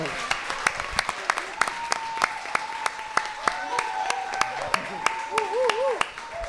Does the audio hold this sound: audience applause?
yes